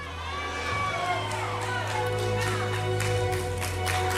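A church congregation applauds and cheers during a New Year's Eve service, a steady wash of clapping and crowd shouts with a sustained tone beneath it.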